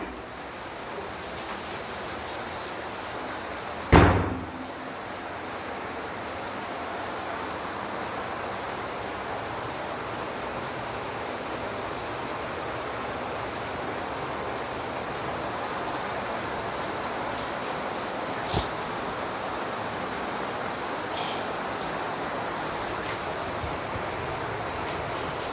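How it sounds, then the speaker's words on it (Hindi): Steady rain pours down for the whole stretch as a dense, even hiss, with one sharp loud crack near the start and a faint click later on. "एक मिनट बारिश हो रहा है।"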